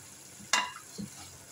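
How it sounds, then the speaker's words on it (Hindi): Beef fries with garam masala spices in a pot, a brief sizzling hiss with a stir, close and fairly quiet over a low background. "मसालों को गोश्त के साथ थोड़ा सा फ्राई करेंगे।"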